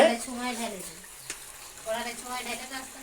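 Mutton pieces sizzle in a hot pan while being stirred, a soft crackling hiss. Voices talk over it throughout.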